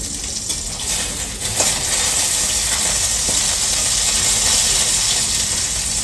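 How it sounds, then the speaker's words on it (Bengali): Stinging catfish frying in a pan gives a steady, close, broadband hiss and crackle that holds at an even level throughout, with a few faint clinks and no voices. "মাছ ভাজা হচ্ছে"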